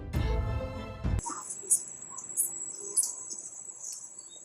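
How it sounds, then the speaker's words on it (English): Grasshoppers chirping outdoors in nature, a faint high buzzing trill with a few brighter pulses, following a short burst of voice at the start. "If you listen to the grasshoppers and the grass and the trees"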